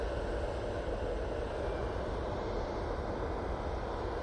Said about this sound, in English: Ryanair is about to come in.